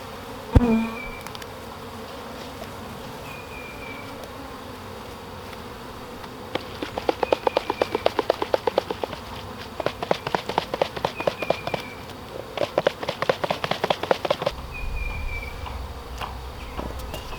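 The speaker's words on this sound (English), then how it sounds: "I'm just going to sit these bees over here by the entrance and let them make their way back in." Steady buzzing from a swarm of honeybees at a hive entrance, low and continuous, with clicks and tapping bursts layered over it through the middle.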